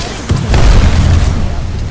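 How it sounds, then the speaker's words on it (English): A grenade goes off in the battle royale game Apex Legends, a loud, deep boom near the start that rumbles and fades over game noise, with a voice speaking under it. "Look out, grenade."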